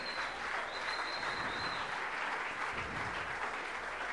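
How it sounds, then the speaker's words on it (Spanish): A church congregation claps in praise to the Lord during a service, a continuous, even wash of hands filling the room at moderate distance, with no speech over it. "Dele un aplauso al Señor."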